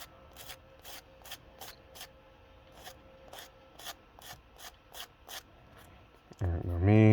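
Short rhythmic scratchy strokes of a sanding sponge repeat steadily at close range, about a dozen passes, ending in a sudden louder burst of noise.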